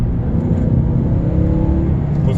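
A Mercedes-Benz CLA 250 4MATIC engine runs in sport mode with a steady low rumble and throaty hum, close and fairly loud, for a couple of seconds.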